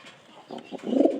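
Pigeons coo in a short, close, throaty burst that swells toward the end.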